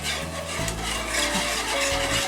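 A whisk scrapes and swirls around the bottom of a pot of dill brine for dilly beans, a close, steady rubbing and scraping with light clinks, no voices.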